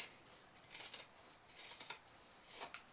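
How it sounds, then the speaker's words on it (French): Pinking shears trim excess fabric from the corners of a sewn baby play mat, with several crisp metallic snips in small clusters, close and fairly quiet, with no talking. "Maintenant je vais découper donc à l'aide de mes ciseaux cranteurs tous les angles, tout l'excédent de tissu."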